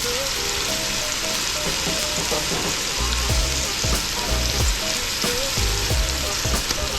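Kingfish frying in a pan with minced garlic and scallions, a loud steady sizzle with crackling bursts and occasional scrapes as the pieces shift, close up and continuous.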